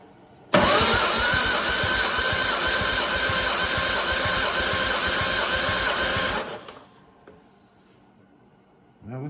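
An MG TF engine cranks over on the starter for a compression test on cylinder number two, a loud, steady, rhythmic whirring chug lasting about six seconds before cutting off abruptly into near silence, with no one speaking.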